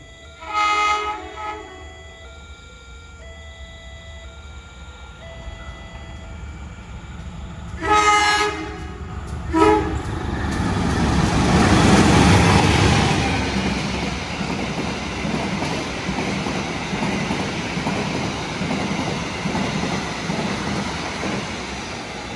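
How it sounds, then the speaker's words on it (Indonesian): An Indonesian passenger train, the Gaya Baru Malam Selatan, sounds its horn a couple of times, then rumbles past with steady rolling wheel noise that slowly fades but persists. "Ternyata yang melintas kereta api gaya baru Malam Selatan."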